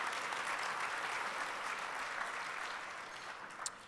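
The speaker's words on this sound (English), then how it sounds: "Round of applause." An awards-show audience applauds at the iAwards 2019 ceremony, a dense, even roar of clapping from a large crowd that holds steady and slowly tapers toward the end.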